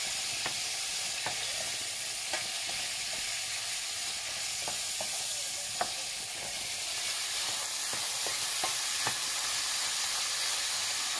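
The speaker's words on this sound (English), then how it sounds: "And the rice is boiling." Rice boils in a pot on the stove, giving a steady loud hiss and bubbling with scattered soft pops and clicks throughout, with no talking.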